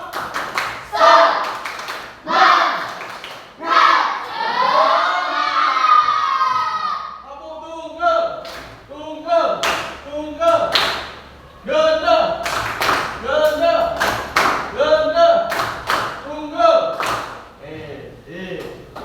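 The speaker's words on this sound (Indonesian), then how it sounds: "Tepuk semangat." Children perform a rhythmic 'tepuk semangat' spirit clap in a classroom, bursts of clapping in a steady pattern mixed with their chanting voices, fairly close and loud.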